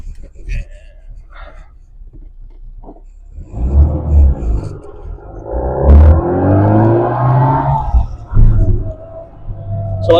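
A small Japanese JDM Mini car with soft tires and off alignment pulls away, its little engine rumbling and revving up through rising gears, close and fairly loud, with brief talk and clicks before it starts.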